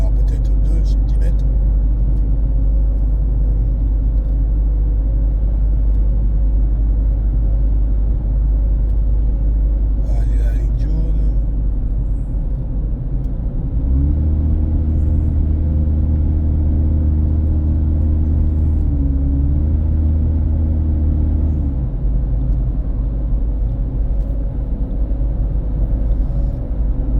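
Inside a car driving on a road with a thin layer of snow, a steady engine rumble and road noise hold throughout while people talk, with a deeper droning stretch partway through.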